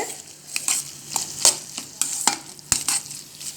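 Amla gooseberry pickle with chili powder and fenugreek powder is stirred in hot frying oil, giving a steady close sizzle broken by repeated sharp scrapes of the spoon against the pan.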